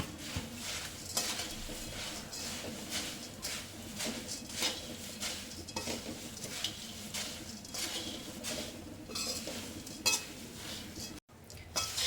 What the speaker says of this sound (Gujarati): બરાબર મિક્સ કરી લઈશું આપણે.